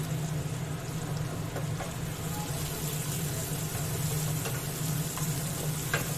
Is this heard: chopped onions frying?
yes